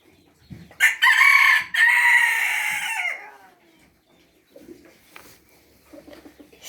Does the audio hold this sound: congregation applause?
no